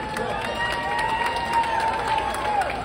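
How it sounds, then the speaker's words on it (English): An audience at a Polynesian show at Ala Moana Centerstage claps for the youth program director, a soft, steady applause under a high sustained musical tone throughout, with faint crowd murmur. "How about a round of applause for Miss Nalani Tiare?"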